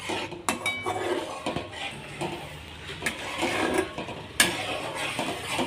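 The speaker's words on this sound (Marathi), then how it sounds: "याला घट्ट होईपर्यंत आपल्याला याच प्रकारे आपल्याला हलवत राहायचं आहे" Milk being stirred in a pan on medium gas heat for orange burfi, a spoon scraping and clinking against the metal in irregular close strokes, with occasional sharper knocks and no talking.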